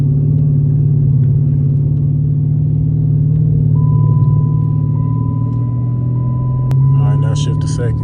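A manual Dodge Challenger drives in first gear, with a steady, loud, low engine drone and cabin rumble throughout, and a brief beep and voice near the end.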